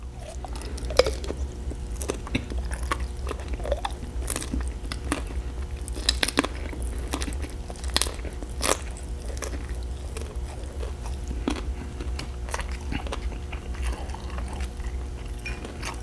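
Close, intimate chewing and biting of spicy ramen noodles and pot stickers, with soft wet squishes and occasional crisp crunches recurring steadily over a low room hum, no talking.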